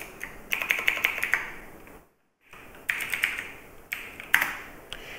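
Bursts of typing on a computer keyboard in a text editor's search box, close and crisp, with quick rapid keystroke clusters separated by short pauses and one brief silent gap.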